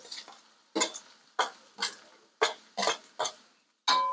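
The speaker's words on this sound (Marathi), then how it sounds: "आता हो कांदो चांगलं लाल होईपर्यंत परतत रवायचे बघा" Onions are stirred and sautéed in hot oil with chilli and garlic for a dried bombil chutney, heard as a series of close, sharp scraping strokes against the pan, about eight in a few seconds, with a faint sizzle between.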